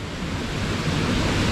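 A forest waterfall rushes with a strong current, a loud, steady wall of roaring water filling the whole moment, close by, with no voices.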